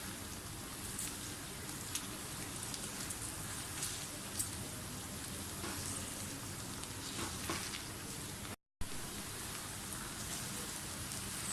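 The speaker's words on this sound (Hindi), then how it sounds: "प्याज और भिंडियाँ दोनों चीज़ें फ्राई हो गई हैं" Okra and onions fry in a pan for masala bhindi, giving a soft, steady crackle that resembles light rain, with occasional faint pops; quiet and even throughout, broken by one brief dropout, with no talk.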